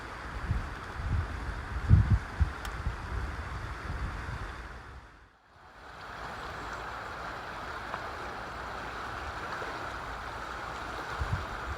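Continuous broadband rush of the fast-flowing River Aire, steady and moderately close, with a brief dip in the middle and faint outdoor ambience at a nature reserve.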